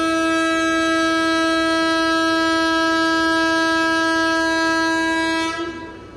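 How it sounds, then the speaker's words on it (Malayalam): A Rajdhani Express electric locomotive blows one long, loud, steady horn blast at close range as the train starts off; the horn cuts off near the end, leaving quieter rumble. "നീട്ടിയൊരു ഹോൺ അടിച്ച് നമ്മുടെ ലോക്കോപ്പയിൽ അങ്ങനെ വണ്ടി ഇവിടുന്ന് സ്റ്റാർട്ടാക്കുവാണേ"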